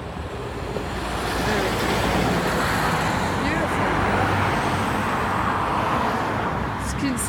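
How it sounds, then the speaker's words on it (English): Heavy road traffic streams past on a bridge while walking, a continuous roar of many cars and larger vehicles, fairly close and steady throughout, with faint talk beneath. "You can see there's a lot of cars."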